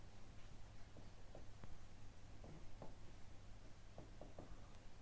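Chalk or marker writing on a board in a lecture room, faint scattered taps and scratchy strokes over a steady background hum.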